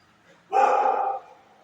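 A Labrador dog being fed fish lets out one drawn-out, loud bark-howl lasting under a second, close to the microphone and otherwise quiet around it.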